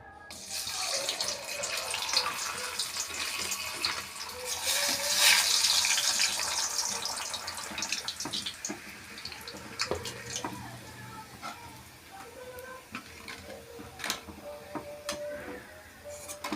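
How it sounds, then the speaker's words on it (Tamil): Appalam (papadum) deep-fries in hot oil while a catering meal is cooked, giving a steady sizzling hiss with scattered crackles and ticks that swell and ease over time. "இப்போ அப்பளம் பொரிக்க போகிறாங்க."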